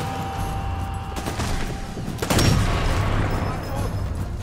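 Gunfire and blasts from the Sniper Elite 4 video game on the Regilino Viaduct level, with sharp broadband bursts over a busy, rumbling battle bed and a heavier impact midway.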